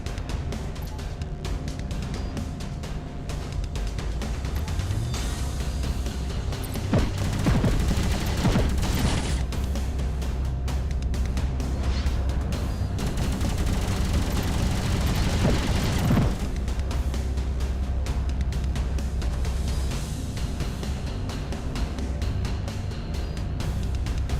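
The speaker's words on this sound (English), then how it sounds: "I shot my own missile." Missile launches and explosions in the space combat game Space Reign, heard as a dense, loud stretch of booming blasts and rumbling fire that runs throughout with no talking.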